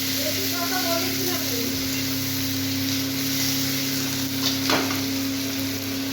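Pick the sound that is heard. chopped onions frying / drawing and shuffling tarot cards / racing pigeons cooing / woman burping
chopped onions frying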